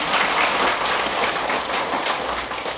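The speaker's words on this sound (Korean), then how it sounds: "이럴 때는 박수를 치는 겁니다." A seminar audience breaks into steady, dense applause, loud and continuous like heavy rain, with no speech over it.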